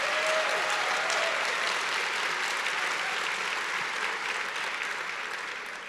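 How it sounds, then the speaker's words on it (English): A large conference audience at an opening plenary session applauds Paul Kawada, a broad, continuous rush of clapping from many people that holds steady and then begins to taper slightly toward the end. "Give Paul a round of applause"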